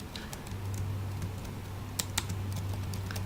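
Keys tapped on a computer keyboard while entering Java code, soft irregular clicks over a low steady hum, with a couple of sharper keystrokes near the end.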